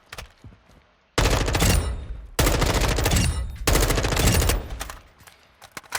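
M4 rifle fire in Call of Duty Modern Warfare 2: three long, loud full-auto bursts with short pauses between, close and dense, with sparse faint game sounds before and after.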